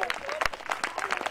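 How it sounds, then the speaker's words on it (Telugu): An audience at a wedding gathering claps in quick bursts of sharp hand claps, with voices mixed in under the clapping. "కొట్టండి చప్పట్లు గట్టిగా"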